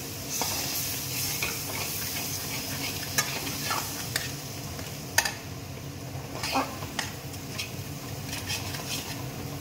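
Spice paste with salt and a splash of water frying in a pan for Bengali aar fish curry, a continuous near sizzle with scattered clicks and scrapes of a spoon stirring against the pan.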